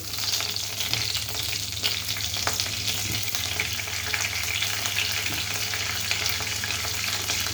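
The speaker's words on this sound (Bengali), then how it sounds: "দিয়ে এখন সুন্দর করে একটু কষিয়ে নেব।" Whole cumin, bay leaves, dried chillies, cinnamon, cardamom and cloves sautéing in oil in a pan, a steady close sizzle with occasional stirring scrapes, no voices.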